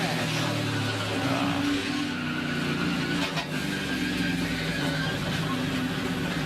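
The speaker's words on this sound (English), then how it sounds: "Big crash." NASCAR race cars in a multi-car crash at Daytona in 2021, heard as a dense, sustained roar of many engines with skidding and grinding, loud and continuous for several seconds with no talk over it.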